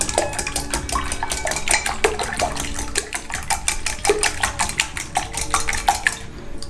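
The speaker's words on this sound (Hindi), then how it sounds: "इनको अच्छे से मिक्स करेंगे।" Omelette pizza ingredients being mixed in a bowl, a rapid, regular clatter of a utensil striking the bowl, close and continuous with brief pauses.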